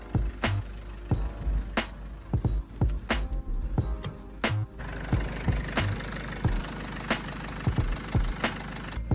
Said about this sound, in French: Faites préchauffer le moteur avant d'effectuer la vidange.